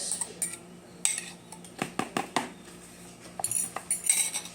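A metal spoon stirs a mixture in a dish, clinking and scraping against the sides in irregular bursts, close and fairly loud, with short pauses between flurries of taps.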